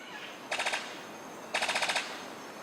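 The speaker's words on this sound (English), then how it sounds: "His courtship song sounds like a machine gun." A Sicklebill bird of paradise gives its courtship song: two short bursts of rapid, evenly spaced staccato pulses, like a machine gun, separated by a brief pause.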